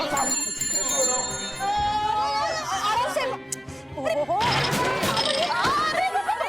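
A bell rings repeatedly with bright, sustained tones while people talk loudly over it.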